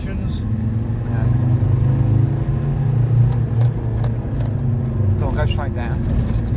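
A 2016 Land Rover Defender engine idles after a carbon cleaning, a steady low rumble with people talking over it nearby.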